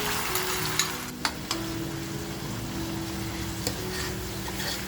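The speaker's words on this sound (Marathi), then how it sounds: "मसाला बघा आपण छान असा फ्राय करून घेऊया" Homemade masala with curry leaves fries in a pan with a loud, continuous crackling sizzle, broken by a few sharp stirring clinks early on.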